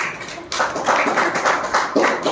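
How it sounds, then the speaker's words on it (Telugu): An audience at a business presentation claps loudly in quick, uneven bursts over a couple of seconds. "ఓకే, గట్టిగా క్లాప్స్ చేయండి."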